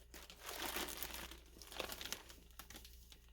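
Close crinkling and rustling of a plastic bag being cut open with scissors, with a few sharper tearing crackles, quiet and uneven over a few seconds.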